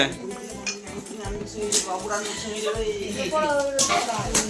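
Pieces of a dinner set clinking and clattering together while gift boxes are unboxed, with light bright chinks over a busy background of voices talking throughout.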